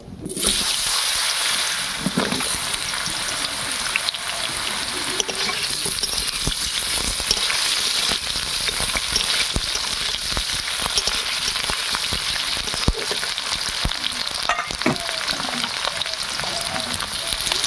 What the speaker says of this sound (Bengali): এবারে আলুটা হালকা করে একটু ভেজে নেব।